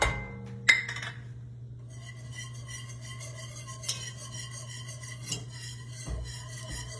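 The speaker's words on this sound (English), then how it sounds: "we're going to put in 1/2 cup of flour and begin to whisk that in" A whisk clinks and scrapes against a pot as flour is stirred into melted butter for a roux, with quiet, fairly regular metallic taps over a low steady hum.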